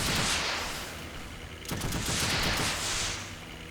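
Gunfire in the destruction game Teardown sounds as a dense, roaring fusillade of blasts, loud and continuous with a sharp fresh burst partway through, no voices.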